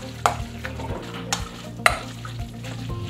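Ground beef fries in a pan with a low sizzle while a utensil scrapes and stirs it, sharp clinks against the pan at irregular intervals, close and clear.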